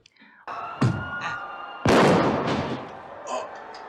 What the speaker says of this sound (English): Right in time with the fireworks.